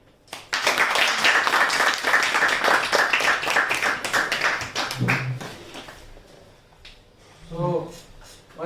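Audience clapping for a guest lecturer at a talk on homeopathic repertory, a few seconds of brisk applause that thins out and fades, followed by quieter room noise and a brief voice.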